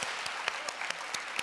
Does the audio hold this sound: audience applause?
yes